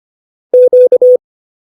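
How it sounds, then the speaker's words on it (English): Morse code letter Q as a clean electronic tone, keyed as three long dashes broken by one short dot in a dash-dash-dot-dash rhythm, loud and close, with silence before and after. "The letter Q sounds like this."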